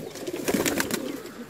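Mixed-breed pigeons brought from Gujarat, including males and crested birds, give soft, close cooing with a few light wingbeats and rustling over a low, steady murmur.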